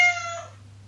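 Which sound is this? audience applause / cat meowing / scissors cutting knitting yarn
cat meowing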